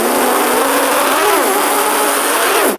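A voice imitates two race cars speeding down a road, a loud continuous buzzing engine drone with a wavering pitch that dips midway and cuts off abruptly at the end.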